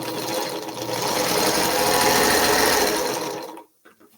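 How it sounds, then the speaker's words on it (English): A sewing machine stitches quilt block pieces for a sampler quilt in one steady, close run, whirring loudly for about three and a half seconds before it stops abruptly. "I'm going to sew this one first."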